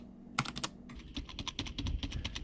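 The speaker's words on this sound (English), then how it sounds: "And here's a real Cherry MX Red mechanical keyboard." Rapid typing on a Cherry MX Red mechanical keyboard, with crisp key clicks coming in quick irregular bursts close by. No one speaks.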